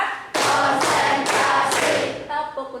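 Schoolchildren in a classroom clapping together in a rhythmic group pattern, four loud synchronized bursts of claps in quick succession, close and energetic, ending with a lighter trailing clap.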